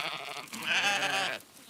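A single sheep bleats loudly and close, one wavering, nasal call lasting about a second, out in a field where sheep graze among rows of solar panels on a central Illinois farm.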